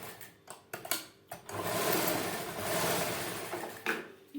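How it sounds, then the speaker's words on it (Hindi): Sewing machine running a seam line over earlier stitching on a kameez side seam, starting with a few short bursts and then a steady, close whirring run with a brief pause near the end. "अब हम इसी के ऊपर सिलाई की लाइन लगाएंगे।"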